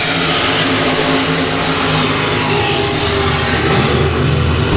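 Modified race cars battling three wide at Ark-La-Tex Speedway, a loud, continuous roar of several engines revving together, dense and sustained without a break.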